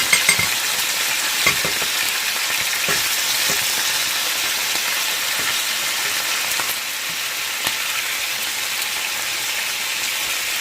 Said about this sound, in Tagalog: Ilumunod natin ang ating breast chicken